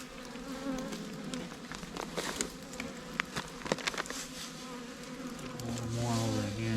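Honey bees buzz in a winter hive, a steady close hum with scattered clicks and taps, rising louder toward the end.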